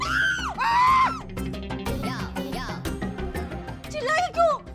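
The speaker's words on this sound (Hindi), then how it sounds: "आप चिल्लाई इसलिए हम भी चिल्ला दिए, आप क्यों चिल्लाई?" People scream in a comedic domestic scene: a woman's high, drawn-out shrieks open the moment, excited voices and short cries follow, and more sharp yelps burst out near the end.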